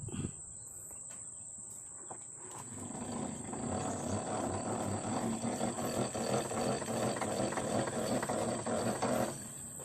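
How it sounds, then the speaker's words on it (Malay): A continuous grinding, whirring rumble from a faulty rear wheel bearing spinning on a Perodua Kembara car, steady and fairly close, with a high whine running throughout. "itu adalah bunyi bearing yang dah bermasalah"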